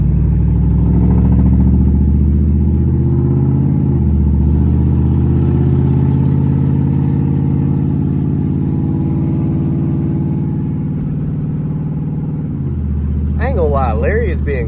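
Steady hum of a car engine named Larry while driving, holding a low, even drone with a brief dip mid-clip, loud and close throughout, with a few light rattles near the end.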